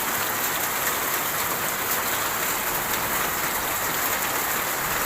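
Steady rain patters densely on a surface, a continuous hiss with no pauses and no voices.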